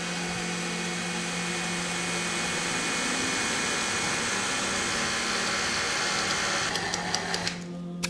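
Electric mixer running at low speed through cake batter, a steady mechanical whir held throughout at moderate level, ending with a few clicks and knocks.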